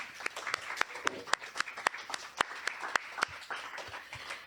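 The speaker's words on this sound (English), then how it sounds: "let's give Spoken Truth another round of applause" A small open mic audience claps in a modest room, sparse distinct claps from a few people close by, irregular and thinning toward the end.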